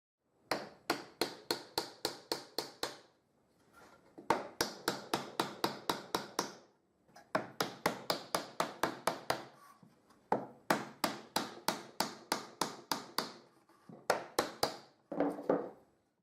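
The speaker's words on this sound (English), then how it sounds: "Now I can tighten them using a hammer." A hammer taps wooden wedges to tighten simple homemade bar clamps holding a glued-up board, in quick bursts of sharp, close, evenly spaced knocks separated by short pauses.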